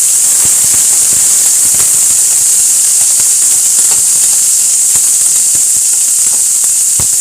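Three large onions cut lengthwise sauté with spices in a pan for a roasted onion chutney, producing a loud, continuous close sizzle and hiss scattered with small crackling pops.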